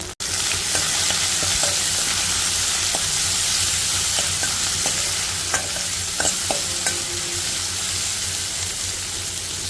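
Soaked chana dal stirred in hot oil for tempering, a continuous sizzle and frying hiss with scattered scraping clicks of the spoon against the pan, close and steady.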